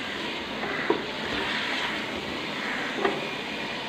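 Mutton liver (kaleji) and pork frying in oily masala over a low flame, a soft continuous sizzle with two brief clinks of stirring, no talking.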